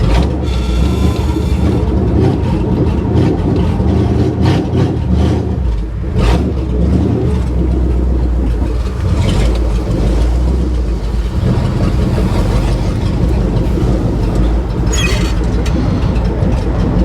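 An old unfinished project car pulling away in first gear, a loud continuous engine roar with rumbling drivetrain noise and occasional knocks, no voices.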